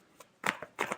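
Tarot cards being shuffled for a love reading: a soft tap, then two quick bursts of riffling card noise, close and fairly quiet, with no voices.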